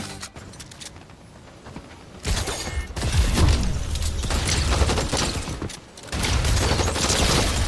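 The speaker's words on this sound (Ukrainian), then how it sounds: "А, вибуховий арбалет." Bursts of rapid, crackling blasts and mechanical clatter from an explosive crossbow in Fortnite, loud and dense, with a brief pause before the barrage resumes.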